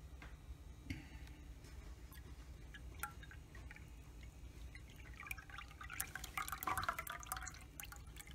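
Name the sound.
pouring goat's milk for soap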